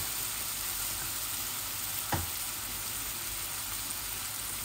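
Courgette and eggplant fry in a pan, giving a steady, even sizzle close by with one brief stir or clink partway through.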